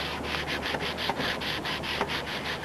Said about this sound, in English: we're going to use some fine grade paper here and smooth it off